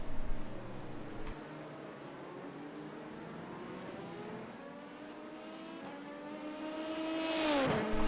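Dallara P217 LMP2 prototype race car in the iRacing sim, its engine droning steadily through a rising and falling pitch, climbing to a loud high rev near the end with other cars faintly behind.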